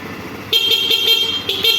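The horn of an RKS Bitter 125 cc motorcycle beeps twice, short sharp honks close by, the second following about a second after the first.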